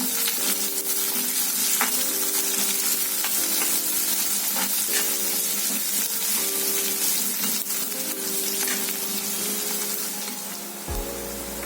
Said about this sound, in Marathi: आता कांदा चांगला परतून झालाय